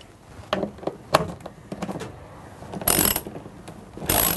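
Bolts being loosened and removed from the cowl and motor base of a Vax Multifunction 6131 vacuum cleaner: scattered metallic clicks and ratcheting taps, with two louder hissing bursts near the end.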